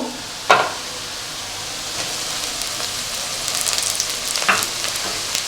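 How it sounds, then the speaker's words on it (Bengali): Tomato frying with browned onions in a pan for vegetable egg chow mein, a steady close sizzle with a sharper burst as it goes in and occasional stirring scrapes. "পেঁয়াজটা হালকা লাল হয়ে গেছে, এইবার চলে যাবে টমেটো।"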